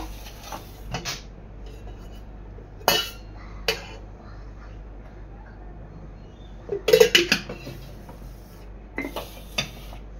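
A bowl of roasted gram flour and oil being mixed into a prawn marinade, with soft scraping and stirring broken by a few loud clinks of a utensil against the bowl.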